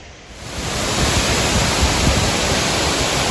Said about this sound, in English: It's quite a waterfall we're gonna walk right by.